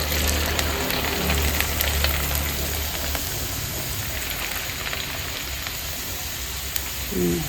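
Krupuk puli crackers frying in a pan of hot oil, a steady close hiss and crackle of bubbling with brief pops, no voices.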